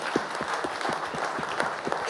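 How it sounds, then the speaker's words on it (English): Audience applause at a geoeconomic dialogue panel on global taxation, steady many-handed clapping with a few distinct nearby claps standing out in a regular rhythm. "Can we have a special applause for that?"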